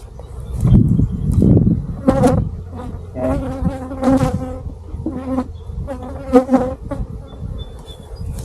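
Bees buzzing around a hive being set down on a silvopasture farm, with loud close passes and steady droning flyby buzzes overlapping, plus some handling noise, no speech.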